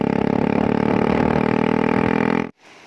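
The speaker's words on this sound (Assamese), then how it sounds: "NS বাইকৰ মাতটো কেনেকুৱা ধৰণৰকৈ আহে নতুন চিলেঞ্চাৰ পাইপত" An NS motorcycle fitted with a new silencer pipe runs steadily with a loud, buzzy engine note, holding a constant idle-like drone before cutting off abruptly near the end.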